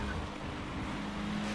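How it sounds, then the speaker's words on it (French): A car drifting in the Need For Speed World racing game, a steady engine roar with tyre noise holding throughout, loud and close with no talk over it. "Il était beau mon dérapage"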